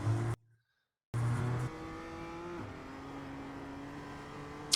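A BMW M2 race car at Oulton Park in iRacing, its engine droning at a steady pitch and dropping out briefly before picking back up on the gas and holding a sustained, even note, with no voices.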